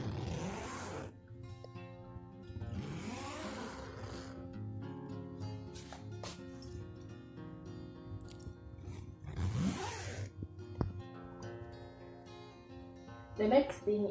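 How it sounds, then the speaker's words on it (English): Zippers on a portable wardrobe are pulled in three or four long rasping runs, close and fairly loud, with a steady low hum and talking in between. "all the zips are working as they should"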